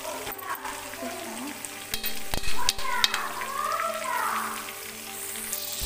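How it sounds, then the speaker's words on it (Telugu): Stuffed brinjals being stirred in a pan of hot oil for gutti vankaya curry, steady sizzling with scraping spatula strokes and clinks against the pan, close and continuous. "వంకాయలు వేసి ఇలా కలుపుకున్నాం కదా"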